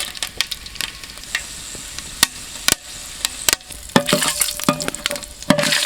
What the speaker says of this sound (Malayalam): ചൂടായ എണ്ണയ്ക്കകത്തോട്ട് നമുക്ക് സ്പൈസസ് ഇട്ട് കൊടുക്കാം കേട്ടോ